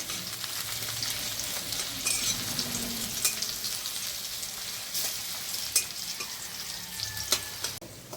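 Pumpkin greens frying in hot oil in a pan with dried red chillies and crushed garlic, a steady close sizzle with scattered sharp crackles and pops throughout, no voices.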